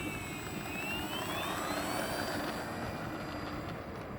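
An E-flite AT-6 1.5m RC warbird plane takes off with flaps deployed. Its electric motor whines steadily and rises in pitch as it climbs away, moderately faint over light outdoor noise.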